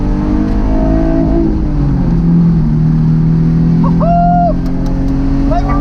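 A Nissan 350Z with about 250,000 miles revs hard on a race track, with a loud, sustained engine drone from inside the car and brief bouncing against the rev limiter, plus some cabin noise.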